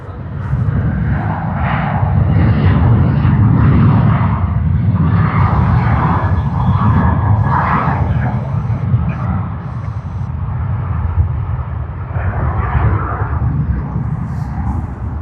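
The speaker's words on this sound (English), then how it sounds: "Qantas's Airbus A321 Sydney to Brisbane service" A Qantas Airbus A321 jet at Sydney Airport, registration VH-OGB, on a Sydney to Brisbane service, gives a loud, steady low engine roar that persists throughout.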